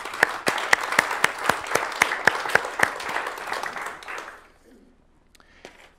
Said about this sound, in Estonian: Teeme neile suure aplausi.